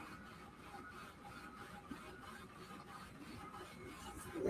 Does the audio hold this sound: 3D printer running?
yes